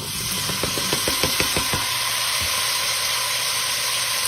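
Onions hitting hot rendered smoked-brisket fat in a pot for chili, a steady close hissing sizzle with a quick run of clattering knocks near the start, then continuous frying alone.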